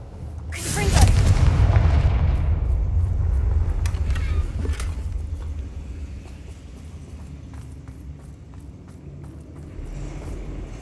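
Confringo blasting spell in Hogwarts Legacy, one loud booming explosion near the start that rolls off into a rumbling tail, followed by scattered faint clicks and crackles.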